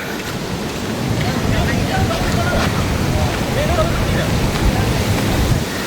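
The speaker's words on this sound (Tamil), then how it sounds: "இங்காலுமே அப்படியே கடல் தான்." Sea waves wash onto the beach beside Dondra Head lighthouse in Matara, Sri Lanka, as a dense, continuous surf roar that swells slightly after the first second.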